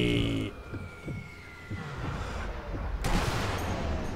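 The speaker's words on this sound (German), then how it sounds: "Hier war nur eine Explosion." A loud burst of explosions and rumbling blasts in the video game Sniper Elite V2 builds toward the end, over a steady low background of crackling noise.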